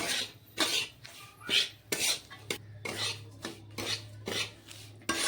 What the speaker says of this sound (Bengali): সুজিটাকে এখন ঘির সাথে খুব ভালো করে ভেজে নিতে হবে লাল লাল করে